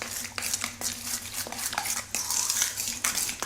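Coconut, melted butter, lemon juice and condensed milk get mixed in a bowl for a no-bake slice, heard as close, uneven scraping and clinking of a spoon against the dish in short strokes.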